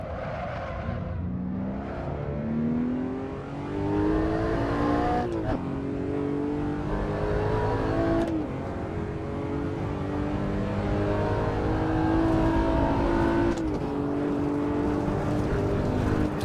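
A Porsche engine revs hard as it accelerates, rising in pitch through each gear and dropping sharply at every shift, loud and close the whole time.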